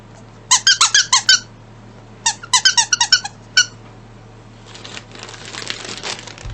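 Squeaky toy squeezed in quick bursts, two runs of five or six sharp high squeaks each, close and loud, followed by softer crinkling rustles, with no talk.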